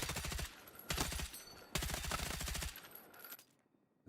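Hip-fired weapon bursts in Battlefield 6: three loud, rapid automatic volleys close by, separated by short gaps, with a fading echo tail after the last one.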